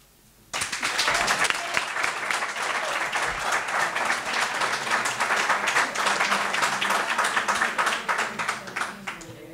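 Sudden burst of sustained audience applause at a political event in Spain, dense and steady clapping from a large crowd that fills the room for several seconds before starting to fade.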